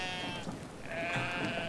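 Sheep in the Brothers: A Tale of Two Sons video game bleat in a brief, moderately loud call over a steady game background.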